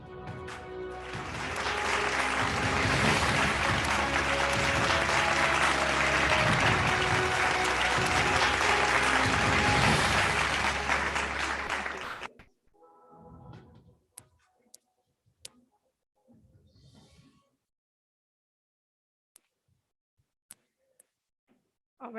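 Loud, sustained applause from a large audience at a law college evening event fills the first twelve seconds, then cuts off abruptly, leaving a quiet room with a few scattered clicks and faint shuffling.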